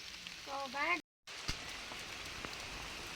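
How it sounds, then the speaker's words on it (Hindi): Heavy rain pours steadily outdoors at a bajra millet field in a dense, hissing wash of drops. A voice is briefly heard before a short dropout, and occasional louder drips stand out near the microphone. "बहुत तेज बारिश आ रही थी"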